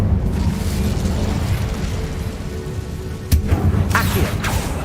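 An Incendio fire spell cast in a wizarding video game, a loud continuous roaring rumble of flame with a sharp burst partway through, followed by brief whooshing flares.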